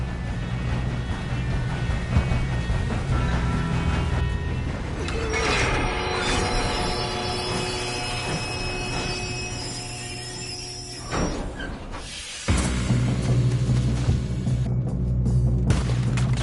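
A moving train in Red Dead Redemption 2 rumbles loudly and steadily with metallic screeches and clanks, punctuated by a sudden heavy boom near the end, with no talk over it.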